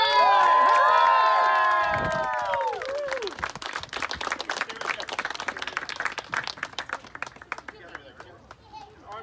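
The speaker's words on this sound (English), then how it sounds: "Arms up, cheer." Wedding guests applaud and cheer loudly right after the kiss, with a burst of shouts and whoops at first, then clapping that thins out and fades.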